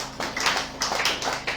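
Church congregation clapping to acclaim Jesus, a close burst of many hands clapping in uneven waves over a low background hum.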